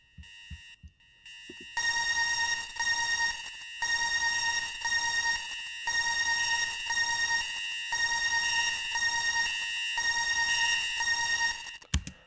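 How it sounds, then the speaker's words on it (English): A synth alarm in a song, a steady shrill high-pitched tone pulsing on and off in repeated loud blocks, like a fire alarm, with brief gaps between bursts. "I also added this like kind of like alarm sound"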